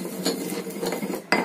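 Pounding and scraping of garlic and pepper being ground in a stone mortar (ulekan), heard as close, irregular clinking knocks with a sharper strike near the end, no talking.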